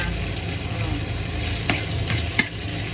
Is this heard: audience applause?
no